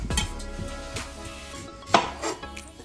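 A knife cuts the ends off a plantain on a kitchen board, giving a few soft thuds and light knocks against the board with faint utensil clinks. The sounds are close and quiet, and no one speaks.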